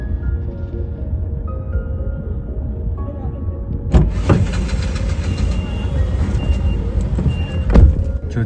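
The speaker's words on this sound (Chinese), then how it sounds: "这全是堵的车，两边都可以走。" Congested road traffic outside Mogadishu airport with idling car and truck engines rumbling continuously, a few sharp knocks or bangs standing out, and faint voices in the background.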